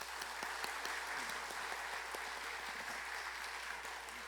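Church congregation applauding during a Sunday worship service in a Korean church, a steady, fairly soft patter of many hands clapping from the pews that holds evenly for a few seconds, with no talk over it.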